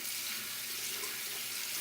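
Water runs steadily from a tap onto a dry shampoo bar, giving a continuous, close hiss and splash with no talking.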